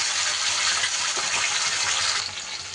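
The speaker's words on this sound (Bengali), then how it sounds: "মিক্সির বাটিটা ধুয়ে খুব সামান্য পরিমাণ এখানে জল আমি দিয়ে দিলাম" Rinse water from a washed mixer jar poured into a cooking pan, a steady close splashing gush that tapers off near the end.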